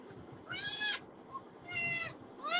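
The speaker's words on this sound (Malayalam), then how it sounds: "പൂച്ച" Cat meowing three times at close range, each a rising-falling tonal call of about half a second, separated by quiet gaps with faint background noise.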